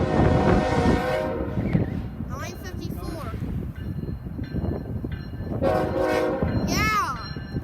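Freight train Q693 passes at a rail crossing in Augusta, its locomotive horn blaring in loud repeated blasts over the steady rumble and clatter of wagons, with someone talking between the horn sounds.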